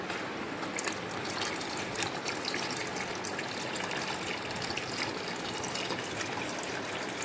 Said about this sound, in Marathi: आणि हा बॅलर भरतोय